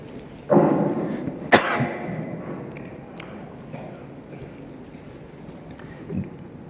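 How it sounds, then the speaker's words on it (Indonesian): A single sharp cough bursts out near the mic, followed by a second short one and a faint third, over a background of low wind-like rumble. "2 hari 3 hari ini agak-agak batuk, mohon maaf."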